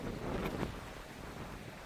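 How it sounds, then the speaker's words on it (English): Gusty wind buffeting the microphone on a gravel river walk in the Tararua Range, a steady rushing roar with a brief stronger gust early on. "Ah, windy!"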